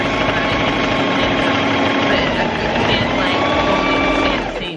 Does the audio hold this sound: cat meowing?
no